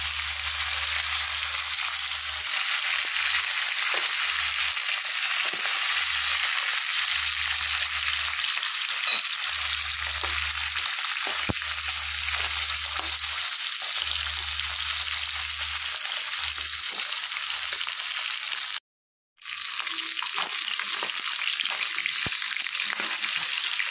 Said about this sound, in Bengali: তেল গরম হয়ে গেছে, তো মাছগুলো দিয়ে দিচ্ছি।